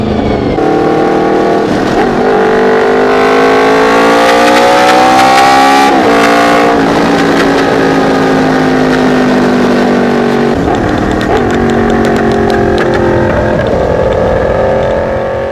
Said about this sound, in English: the best part about a VFR is that sweet, sweet V4 that it has